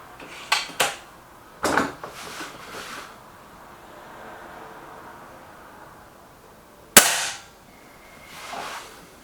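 Pellet air gun shots are fired during a pellet test, giving sharp, close cracks: a few scattered pops early, then one loud snap later, with faint handling sounds between.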